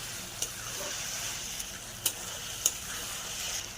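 Pandharpuri-style sabudana khichdi with salt is stirred and mixed in a pan. A soft, steady sizzle runs throughout, with three or four sharp spoon clinks against the pan.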